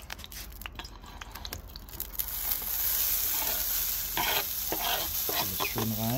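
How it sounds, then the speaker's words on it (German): Shashlik skewer meat stirred in a hot pan, first with scattered scraping and clatter, then settling into a steady loud sizzle, with sharper utensil scrapes near the end. "das tun wir jetzt in die Pfanne geben zum Anbraten"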